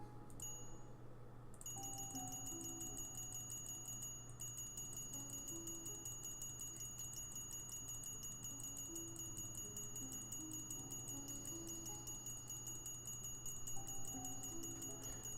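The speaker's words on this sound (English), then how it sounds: "Just this dinging over and over again?" A train bell dings over and over in the Locomotive video game, a faint, steady metallic ringing repeating at a regular pace over a low, continuous hum.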